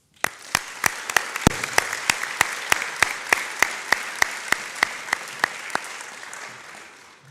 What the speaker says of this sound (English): one more round of applause for all the nominations and winners up to this point